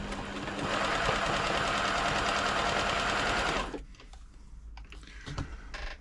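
A Silver/Pfaff 1139 sewing machine runs a fancy stitch at speed, giving a loud, steady mechanical whir for about four seconds before stopping abruptly into quieter clicks and handling noises.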